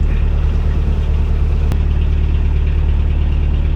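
A canal boat's engine drones loudly and steadily on a narrowboat cruising a canal, a continuous low mechanical rumble with no break throughout.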